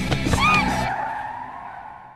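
A car's tires squeal in a loud skid during a film crash scene, a sharp screech that fades away over about two seconds.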